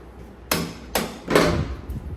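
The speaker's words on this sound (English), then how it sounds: "now I'm pushing the axle towards the right side with the rubber mallet" Rubber mallet striking a motorcycle axle on a Ducati Scrambler to push it sideways, three dull thuds at a steady pace, close and alone.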